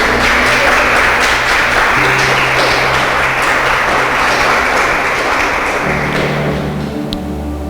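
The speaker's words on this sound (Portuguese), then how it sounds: "Você pode aplaudir a Deus por essa palavra, irmão?" A church congregation at a Portuguese-language service gives dense, sustained applause, loud and steady for several seconds before easing slightly near the end.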